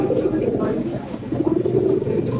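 Pair of reversing magpie pouter pigeons cooing at a pigeon shop, a low, steady murmuring coo running continuously at close range through the clip.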